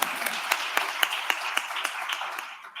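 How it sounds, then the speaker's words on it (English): Conference audience at Islandpreneur Live 2023 applauding, a lively crowd clapping steadily with a few sharp individual claps standing out, fading slightly toward the end. "Yes, you could clap for that."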